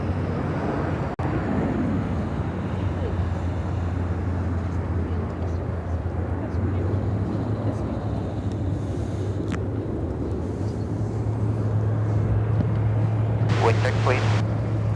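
An American Airlines Boeing 787-9 Dreamliner takes off from Chicago O'Hare bound for Athens, producing a steady, broad jet roar that holds level throughout, with voices talking over it.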